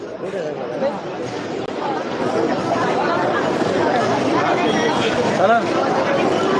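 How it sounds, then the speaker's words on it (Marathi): A huge crowd of pilgrims at the Alandi palkhi procession, a dense and constant babble of many voices close by that fills the whole stretch with no pauses. "प्रचंड गर्दी या ठिकाणी झालेली आहे"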